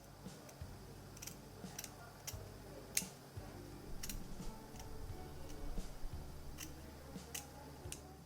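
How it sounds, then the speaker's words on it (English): Scissors snip through the lace of a frontal wig in a series of sharp, close, irregularly spaced cuts over a quiet room background. "I'm going in with my scissors again and cutting it in 3 different parts"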